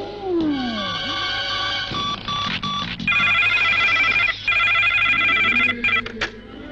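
A telephone rings during a call, its bright warbling electronic ring repeating steadily throughout, loud and close, over a low background hum.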